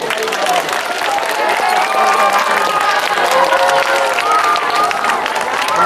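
Applause and cheering from a large crowd at the 2016 Olympics closing ceremony, a dense loud roar of clapping and shouts sustained throughout, with a voice faintly mixed in.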